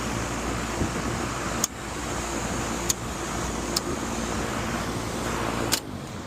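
A compressor on a variable frequency drive, its phases wired wrongly after the contactors were changed, runs with a steady broad hum and hiss, broken by a few sharp clicks.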